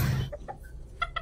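Bantam (kate) chickens on a contest-breed chicken farm in Brebes, Indonesia, giving a few short clucks after a brief burst of louder noise, moderately close with no talk.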